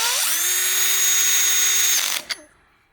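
Power drill tightening a bolt on an X-Chair X77 massage chair, a whining motor rising in pitch, holding steady for about two seconds, then stopping with a brief click and clunk.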